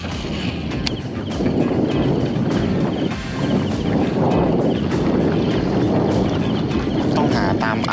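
Strong wind buffets the microphone aboard a fishing boat on a canal, a loud, steady roar of gusts with low rumbling throughout and no voices.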